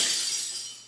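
A glass-breaking sound effect from Syrinscape gives a brief, bright crash that trails off in a fading high shimmer of shards, under a second long.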